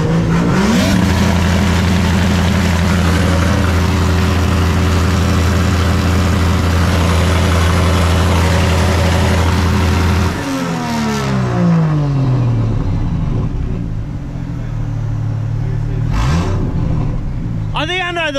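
A turbocharged Ford AU Falcon engine that has a turbo fault revs hard and steadily at high load for about ten seconds. It then drops and surges through rising and falling sweeps, and the sound is loud and close.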